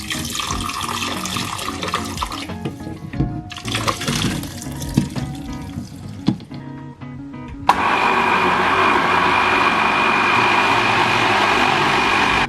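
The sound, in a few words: liquid poured into a blender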